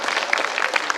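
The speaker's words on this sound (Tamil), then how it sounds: "நீங்கள் கைதட்டி தயவு செஞ்சு நீங்கள் எல்லாருமே பாராட்டணும்" A crowd applauds teachers at a school Musical Intelligence Day event, a short, loud, dense burst of many hands clapping at once.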